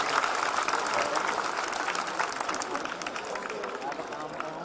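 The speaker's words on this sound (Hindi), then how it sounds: "तो ताली मैं बजाऊं?" An audience at a Hindi comic poetry recital breaks into sustained clapping and applause, a dense, lively patter of many hands that holds steady and then eases off slightly, with a murmur of crowd noise underneath.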